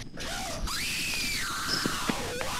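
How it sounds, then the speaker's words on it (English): A kid screaming in the Roblox Jailbreak game, a sustained high-pitched wailing scream that rises, holds, then slides down, loud and near, with some clicking game sounds around it. "Do you hear the kid screaming?"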